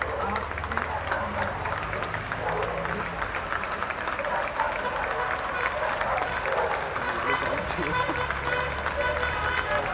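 A city crowd applauding from balconies for health workers during the Buenos Aires quarantine, a dense, sustained wash of distant clapping and cheering echoing between buildings, with a voice talking over it.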